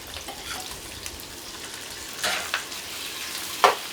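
Chicken drumettes are stir-fried in a pan while a Shanghai-style braise of chicken and daikon is being made, a quiet frying hiss punctuated by several scraping stirs and one sharp clink near the end, with no speech.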